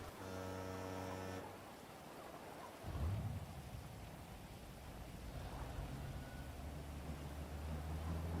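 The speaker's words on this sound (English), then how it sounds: "the weather has decided that it wants to rain now" Rain falls steadily in the video game GTA V, a dense hiss of drops on surfaces with a low rumble like thunder near the start, following a brief musical passage.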